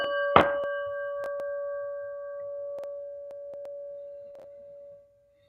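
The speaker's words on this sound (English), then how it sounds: "let's get a little breath and listen to the prayer bell" A prayer bell is struck once with a bright metallic clang, its pure ringing tone sustaining and slowly fading for several seconds with a few faint secondary taps, alone in a quiet room.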